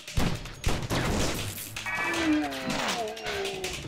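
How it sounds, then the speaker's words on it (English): Gunfire from the video game Stranglehold: a couple of loud, sharp shot bursts at the start, followed by a busier stretch of game action and tonal effects in a dense mix. "Shooting!"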